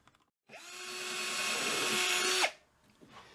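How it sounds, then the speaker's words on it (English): A power drill bores into the board of a cigar box guitar, running in one sustained, rising whine for about two seconds before stopping sharply. Small clicks and knocks come just before and after. "So what I'm doing here is I am drilling"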